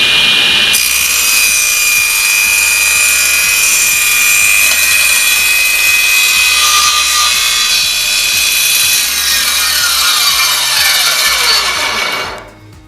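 A SIP professional 10-inch cast iron table saw rips a straight cut through wood in one loud, continuous whining rasp, close up, that runs down and stops at the end.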